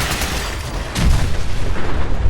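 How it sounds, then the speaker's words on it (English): Explosions in the video game Fallout 4, a dull distant boom rolling in over a constant noisy background, with a low rumbling tail. "there's explosions going off"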